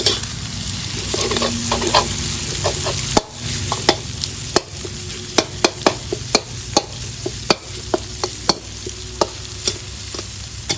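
Fermented pork and egg stir-fry in a hot pan with a continuous close sizzle, broken by sharp, irregular scrapes and taps of a spatula on the pan, with no talking.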